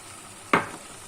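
Fresh garlic and onion hit hot oil in a pan with one sudden sizzling burst that quickly fades into a softer frying hiss, close and without talk.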